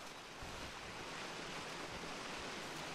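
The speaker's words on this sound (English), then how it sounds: "alright, it's the waterfall" Waterfall in the video game Kingdoms of Amalur: Reckoning, a steady broadband roar of rushing water that stays loud and even throughout with no talking.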